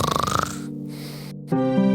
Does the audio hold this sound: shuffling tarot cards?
no